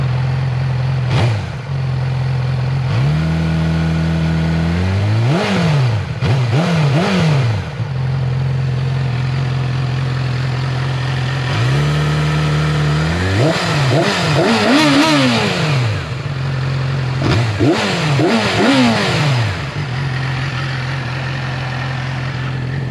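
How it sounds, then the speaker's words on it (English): A 2013 Yamaha R6 sport motorcycle on its stock exhaust idles steadily, then is revved hard three times, each blip rising sharply and falling back to idle; close and loud with no talking. "this is what the exhaust sounds like when you rev it."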